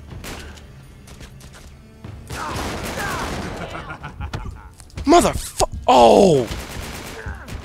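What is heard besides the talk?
shotgun gunfire in the video game Uncharted 3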